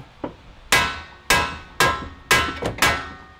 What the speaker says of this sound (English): just smack it a few times